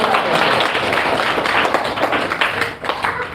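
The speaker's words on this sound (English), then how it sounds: "This was meant for clapping" An audience at a live religious lecture in an ISKCON temple hall bursts into steady, dense clapping, loud and close, continuing for several seconds without a break.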